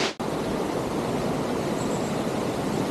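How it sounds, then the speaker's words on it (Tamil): Water rushes steadily at Maranatty waterfall in Kerala, a loud, close, unbroken roar of noise after a brief opening knock. "அப்போ பாருங்க வாட்டர் ஃபால்ஸ்"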